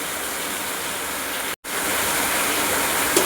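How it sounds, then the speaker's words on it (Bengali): Heavy pouring rain roars as a steady, dense hiss, constant and loud apart from one brief cut to silence, with no voices. "আপনাদের ওদিকেও কি এরকম মুষলধারায় বৃষ্টি হচ্ছে"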